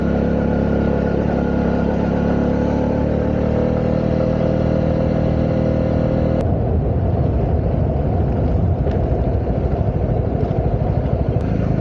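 A Honda CB125R motorcycle rides along a wet road in the Peak District, its engine droning loudly under steady wind rumble, then easing off to a rougher, lower note as the clutch is pulled in partway through.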